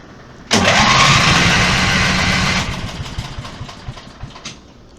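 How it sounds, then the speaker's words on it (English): Old lift engine cranked and fired up on choke, a sudden loud roar that runs steadily for a couple of seconds, then settles into an uneven, pulsing idle with distinct chugging beats. "Go ahead and fire it up, Chris."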